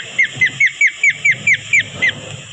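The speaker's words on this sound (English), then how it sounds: "Buzzards." A buzzard gives a quick run of about nine short, sharp calls, evenly spaced and fairly loud, with low background noise underneath.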